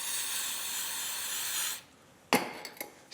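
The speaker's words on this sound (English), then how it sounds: "spray the cleaner directly on the toothbrush." A continuous close spray of throttle body cleaner onto a toothbrush hisses for nearly two seconds, stops, then a few short scrubbing or rubbing sounds follow, on a 2008 Silverado.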